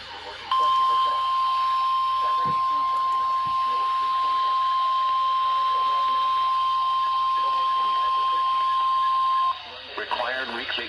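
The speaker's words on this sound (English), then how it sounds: "The preceding signal was a test of the NOAA radio public warning system." A NOAA weather radio public warning test tone plays as one long, steady, piercing beep that holds for about nine seconds over faint radio hiss, then stops abruptly into brief static.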